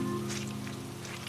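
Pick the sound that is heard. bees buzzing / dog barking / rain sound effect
rain sound effect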